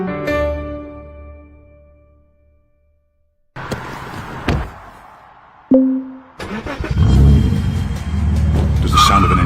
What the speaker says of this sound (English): Does the sound of an engine light you up?